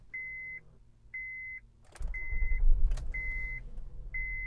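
A 2012 Honda Accord EX-L V6 coupe with about 195,000 miles: a repeating chime beeps steadily, then the engine cranks and catches on the first try and settles into a loud, steady rumbling idle.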